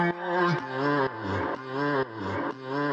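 A pitched, sung-sounding vocal sample with stereo delay repeats in short sustained phrases inside an electronic dance track, dense with harmonics and steady in level, with a short break between each phrase.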